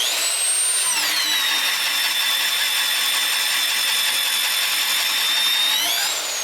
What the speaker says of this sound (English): right now we're using an inch and a quarter. Inch and a quarter recess bit there